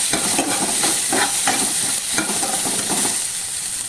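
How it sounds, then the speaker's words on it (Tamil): Garlic and onion frying in a pan with curry leaves while being stirred for a red spinach sambar, a steady sizzle with repeated scraping stirs, close and moderately loud. "இப்போ பூண்டு, அப்புறம் தேவையான அளவு வெங்காயம் போட்டாச்சு. இப்போ ஜஸ்ட்டு மிக்ஸ் பண்ணிக்கலாம்."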